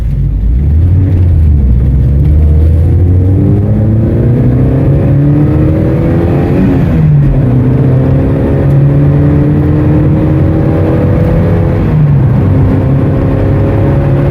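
A 1980 Volkswagen Scirocco GLS MK1 with its small 1600 engine accelerates hard through the gears, a loud, close, continuous revving note that climbs, drops at each shift around the midpoint and climbs again, with no talk over it.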